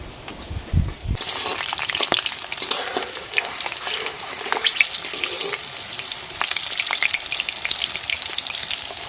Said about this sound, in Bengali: শুকনো লঙ্কা আর রসুন ভাজা হয়ে গেছে।